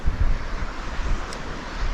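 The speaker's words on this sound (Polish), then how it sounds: "Lekki wiaterek, ale da się to wszystko przeżyć." Light wind blowing on sea cliffs on the Irish coast in spring, a steady rushing roar of gusts and distant surf buffeting the microphone, with no voices.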